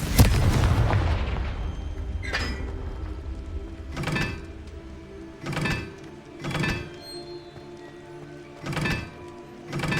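A Confringo fire spell bursts in the Hogwarts Legacy video game with a heavy opening blast, followed by a series of deep, booming impacts spaced a second or two apart.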